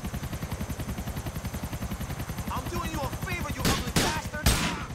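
An AK-style Kalashnikov rifle fires in rapid automatic bursts in GTA IV, a rhythmic stream of shots throughout with a few louder blasts near the end, while a voice speaks over it.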